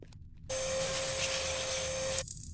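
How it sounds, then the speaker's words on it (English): A vacuum cleaner in an indie horror game switches on with a loud steady whine and roar that runs for under two seconds, then cuts off abruptly. "Vacuum."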